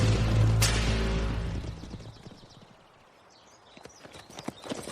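Horses carry riders along at a steady pace, their hooves clip-clopping in a continuous rhythmic patter that starts under a fading low musical drone and stands more clearly on its own by the end.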